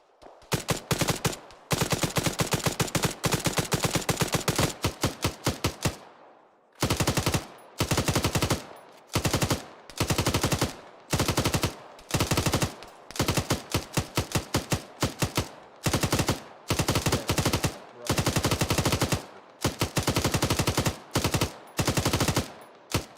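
Rapid automatic gunfire in the military shooter game Arma: loud, close bursts of machine-gun fire repeated in a steady stop-start rhythm, separated by brief silences, with no talk over it.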